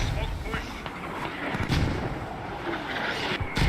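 Mortar fire in a video game: repeated muffled thumps and distant booms rumbling under a voice commentating over the action.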